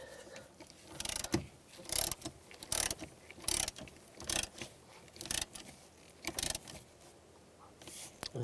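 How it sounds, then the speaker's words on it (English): A ratchet tightens a nut on a 2006-2011 Cadillac DTS during a serpentine belt tensioner job, giving repeated short bursts of clicking spread across the clip, fairly close and with no talking. "Tighten the nut."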